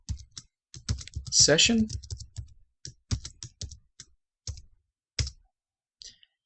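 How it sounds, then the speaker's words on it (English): Rapid keystrokes clatter on a computer keyboard as a command is typed into an R shell. The taps come in quick uneven bursts with short pauses, close and crisp, and a voice speaks briefly between them. "And we simply type install.packages"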